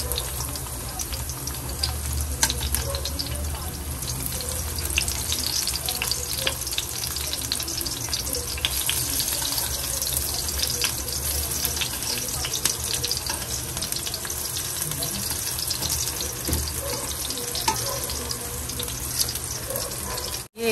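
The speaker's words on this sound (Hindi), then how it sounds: "फ्राई कर लेंगे इनको, पहले एक तरफ से पकाएंगे हल्का फिर दूसरी तरफ से" Bottle gourd slices shallow fry in oil in a pan, a dense, loud, continuous sizzle and hiss running unbroken from start to finish.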